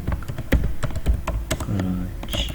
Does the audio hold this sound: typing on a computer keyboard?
yes